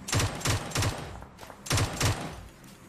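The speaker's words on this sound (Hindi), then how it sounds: "यहाँ गोली चल रही है" Gunfire in the PUBG battle royale video game: short bursts of rapid automatic shots, two clusters separated by a brief pause, loud and close with no talk.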